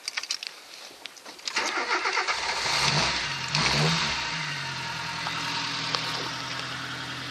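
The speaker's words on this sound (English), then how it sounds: "find out exactly what this car sounds like with said exhaust in the back" A car with a manual choke and an aftermarket exhaust cranks briefly, catches and fires up, revving once before settling into a deep, rumbling idle close by.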